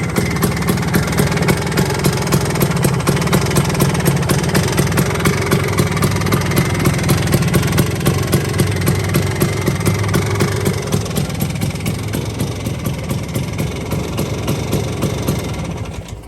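A modified touring-spec Vespa scooter engine idles steadily up close, a continuous throbbing putter with a faint knocking rhythm that holds for the whole stretch and eases slightly toward the end, with no voices.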